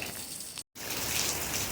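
Heavy morning rain pours outside in Montego Bay, Jamaica, a dense continuous hiss with a brief cut partway through.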